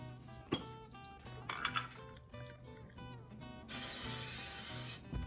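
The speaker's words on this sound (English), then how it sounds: "Now we're going to spray it with non-stick spray," Non-stick cooking spray hisses into a pot on a stove in one loud, steady burst lasting over a second, following quieter kitchen clatter and background music.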